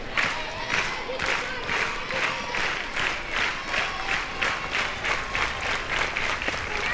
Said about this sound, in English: There's part of this large, enthusiastic crowd here supporting LSU